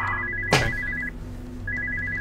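A telephone rings in the horror game Spooky's House of Jumpscares: a steady electronic ring tone repeats, broken by a sudden loud thump, then falls silent and resumes after a short pause.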